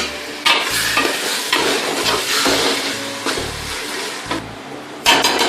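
Tomatoes and whole green chillies frying in oil with garam masala for chicken biryani, a close, steady sizzle broken by scraping stirs of a spoon against the pot, with a few sharper bursts near the end.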